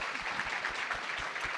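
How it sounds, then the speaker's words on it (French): Audience applause for a guest at a French-language panel on inclusion and diversity in sport, a brief steady wash of clapping heard from a moderate distance with no voices. "on peut l'applaudir"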